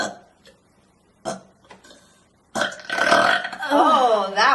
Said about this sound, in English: Keep burping.